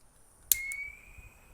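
A sharp click followed by a thin, steady high-pitched whistle from a soldering pen that holds for about a second, quiet and close, with a faint second tick.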